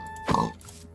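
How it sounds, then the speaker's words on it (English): A single short pig oink from Minecraft Bedrock Edition, close and clear over a faint steady background hum. "Some pigs."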